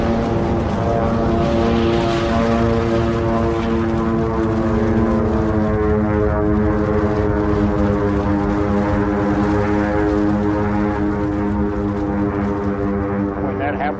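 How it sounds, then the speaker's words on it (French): A propeller airplane in flight drones steadily and loudly for the whole stretch, with a strong, even engine hum that does not fade. "L'avion fait un écart."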